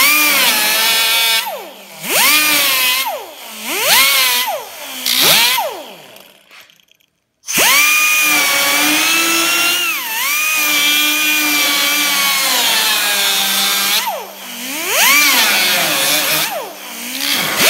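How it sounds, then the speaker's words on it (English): A power tool cutting into a rusty car fender panel, loud and close, its motor whining and rising in pitch in repeated bursts, then running in a long sustained cut before easing off near the end. "So I'm going to cut this top panel off and just kind of go real easy on it."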